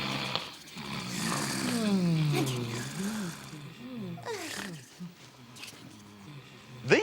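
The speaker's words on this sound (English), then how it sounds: "Who's that snoring?" Snoring in an animated children's arts-and-crafts show, a run of deep, rumbling, drawn-out snores that rise and fall in a slow rhythm, close and fairly loud, with sleepy breathy sounds in between.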